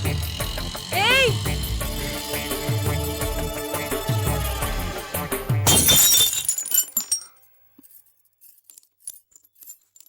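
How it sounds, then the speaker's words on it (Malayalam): A glass tamarind jar shatters loudly in a home, a bright burst of breaking glass after steady background music, then fading to near silence with a few faint tinkles. "ഏതോ കുപ്പിപ്പാത്രമാണെന്ന് മനസ്സിലായി"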